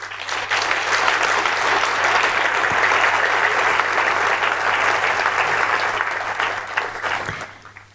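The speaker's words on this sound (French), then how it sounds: "je vous propose d'applaudir tous nos bénévoles des Herbiers." An audience at a town's New Year ceremony in Les Herbiers applauds warmly, a dense, sustained clapping from a large crowd that swells quickly and fades out near the end.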